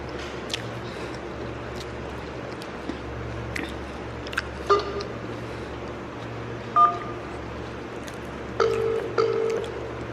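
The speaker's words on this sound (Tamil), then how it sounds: "அண்ணன் கடைசியாக ஒரு டைம் ஃபோன் பண்ணி பார்ப்போம்." Phone dialing tones during a late-night kitchen call, a few soft beeps spaced apart over a steady low hum and faint background clatter.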